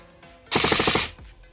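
Airsoft gun with its stock motor on a 7.4V LiPo fires one loud, rapid burst of about half a second, a fast mechanical chatter of shots, then stops.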